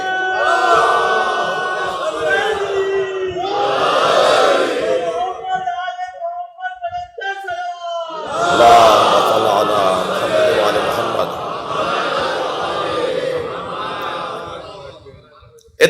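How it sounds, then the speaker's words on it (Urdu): Audience at a religious gathering reciting salawat loudly in unison, two bursts of crowd voices, then a short pause with a single voice, then another long swell of massed chanting. "اس سے بہتر اور بلند صلوات ہے۔"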